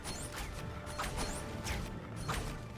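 Barrels being smashed with daggers in the Lego The Lord of the Rings video game, a series of quick crunching impacts repeating about every half second over a quiet, steady game background.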